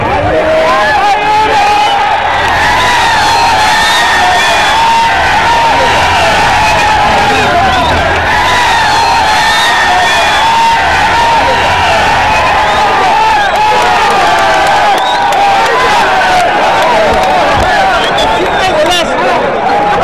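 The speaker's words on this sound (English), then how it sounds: "the crowd bursts into a fervent cheer when someone is declared a winner" A large crowd at an Uzbek horseback tournament roars and cheers when a winner is declared, a dense, loud babble of shouts and whoops held steady for about twenty seconds, with many voices mixed in.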